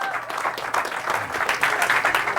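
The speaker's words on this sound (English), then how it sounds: "Give yourselves a round of applause." Audience applause at the close of a lecture on Moorish heritage in the Americas, steady clapping from a room of listeners that swells slightly and holds for a couple of seconds with no voices over it.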